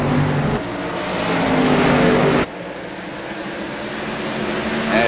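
Race cars roar around the track at Richmond International Raceway during a Dream Racer Cup Series race, a loud sustained engine drone that swells and then drops abruptly as cars pass.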